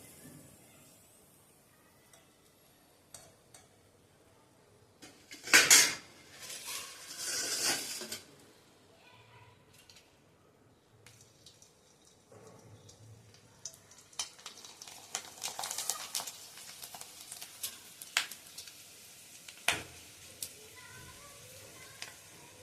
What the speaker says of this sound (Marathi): आता आपण ही पापडी तळून बघूया.